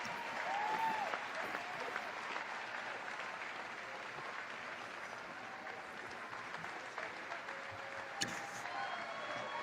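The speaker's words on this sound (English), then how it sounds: "It was the largest applause I've ever heard" Loud, sustained applause from a large audience in a played-back recording, a dense steady wash of clapping filling the whole stretch with a brief sharp peak near the end.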